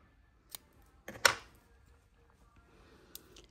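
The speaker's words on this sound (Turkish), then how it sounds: "bu ipimi kesiyorum" Scissors snip through yarn during crochet work, a close, soft cut followed by a couple of faint ticks in an otherwise quiet room.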